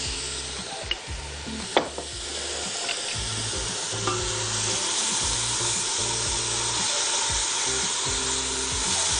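White onion fries in oil for Egyptian koshari, giving a steady, dense sizzle close up with occasional clinks of stirring.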